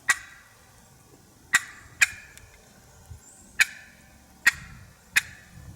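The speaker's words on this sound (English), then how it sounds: "That's a cluck" Sharp single clucks tapped out on a wooden turkey box call, six crisp separate notes at uneven intervals, close and clear against a quiet background.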